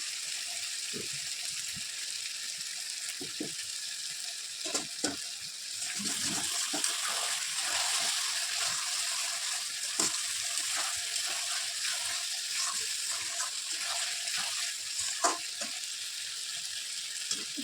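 Meat sautéing in a pan sizzles steadily and fairly loudly, with scattered spoon scrapes and taps over the hiss, growing slightly fuller partway through.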